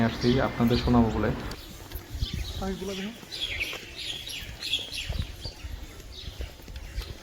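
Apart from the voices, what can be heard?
birds chirping at Baliati Zamindar Bari, Manikganj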